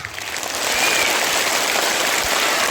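Audience at an Ottanthullal performance breaks into a dense, loud, sustained clapping that swells quickly and holds steady, a wash of many hands with no voices.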